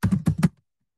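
Computer keyboard typing for a program title: three quick clusters of keystrokes in about half a second, close and clear, then silence.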